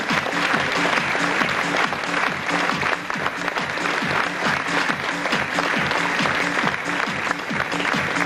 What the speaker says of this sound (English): Come on, folks, give them a big round of applause.